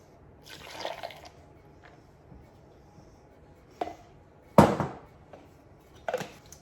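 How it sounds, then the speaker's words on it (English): Espresso poured from a small vessel into a shaker with nutmeg and ginger for an iced drink, heard as a few brief liquid splashes and drips scattered among quiet pauses, close by and fairly soft. "Okay, then I pour in my espresso."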